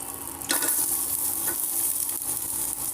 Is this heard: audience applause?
no